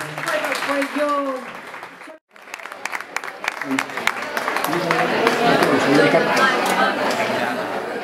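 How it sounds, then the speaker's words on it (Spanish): An audience at a cultural tribute event on Calle Mayor in Caravaca breaks into sustained applause that swells into dense clapping and lasts several seconds, after a voice speaks over a microphone and a brief pause. "Adelante un aplauso para Paquita Martínez"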